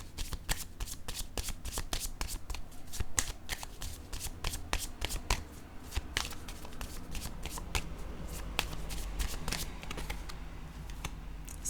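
A deck of cards is shuffled over and over, giving dense, crisp riffling and snapping bursts close to the listener that continue steadily throughout with no talking.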